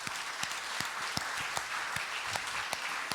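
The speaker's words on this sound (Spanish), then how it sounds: "Denle un aplauso a nuestro Señor Jesús." A church congregation at a volunteers' meeting breaks into sustained applause, a steady wash of many hands clapping throughout.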